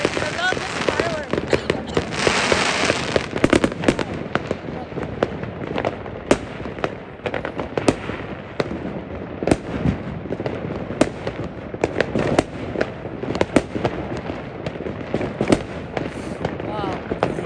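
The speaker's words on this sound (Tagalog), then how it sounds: "This is the longest fireworks here in the Netherlands, right?" New Year's fireworks in Oosterwolde, the Netherlands, crackle and bang continuously in dense overlapping bursts, loud and near, while people talk excitedly over them.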